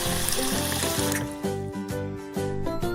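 Water runs steadily from a tap while someone washes their face, a continuous splashing stream that sits under a bright children's music track.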